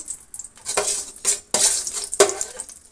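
Mustard seeds drop into about three spoons of hot oil in a pan for a cabbage palya, giving sharp crackling bursts and spoon-against-pan clatter that come in several separate surges with quiet gaps between them, and no one speaks.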